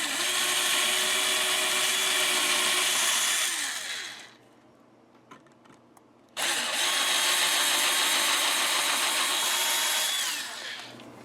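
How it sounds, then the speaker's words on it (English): A power drill whines loudly and steadily as it bores screw holes in a guitar, running in two long bursts separated by a short pause filled with faint handling clicks. "Now I'm going to go ahead and drill these holes out for the screws."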